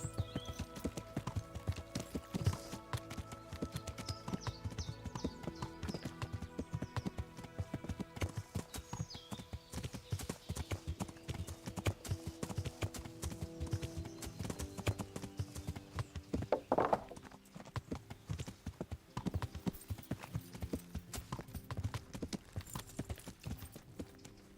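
Horses gallop with steady clip-clopping hooves in the medieval game Kingdom Come: Deliverance, a dense, continuous rhythm under game music and ambience, with a brief louder burst partway through.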